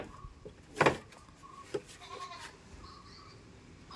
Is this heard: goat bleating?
yes